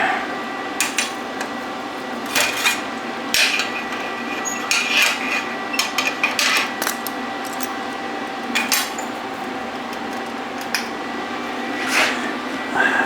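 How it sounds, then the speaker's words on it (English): Metal clanks and scraping taps as a straight edge is clamped onto a steel fixture table, scattered knocks and rattles of tools at close range over a faint background hum. "Then I'll clamp it down."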